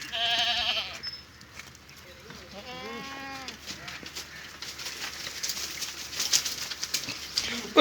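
Goats bleat on a farm in several wavering calls through the first half, mixed with outdoor noise, rustling and other animal sounds that grow busier toward the end.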